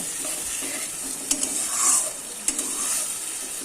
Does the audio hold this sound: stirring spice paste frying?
yes